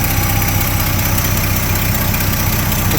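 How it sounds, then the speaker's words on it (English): A 1972 Chevy C10 pickup truck's carbureted engine idles close by, a loud, steady rumbling drone with a fine rapid pulse and even loudness throughout. "It seems like it's idling pretty good."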